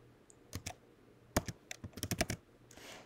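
Typing on a computer keyboard, close and quiet, in a few scattered keystrokes followed by a quick burst of several clicks, with no voices.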